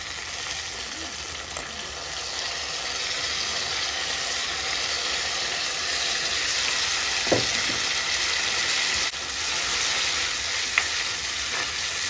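Curry leaves and other ingredients frying in a pan while Jaffna vada curry is being cooked, a loud steady sizzle that holds throughout with a couple of faint stirring clinks.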